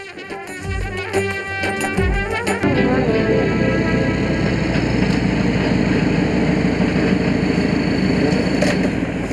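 A bulldozer engine rumbles loud and close, starting with rhythmic clanking bursts before settling into a dense, continuous mechanical roar.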